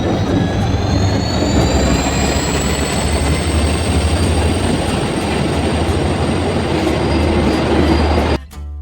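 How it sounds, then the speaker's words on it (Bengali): Loud, steady rumble and clatter of a moving passenger train heard from on board, with a high whine running across, continuous until it cuts off abruptly near the end. "এখন ট্রেনে উঠে গেছি"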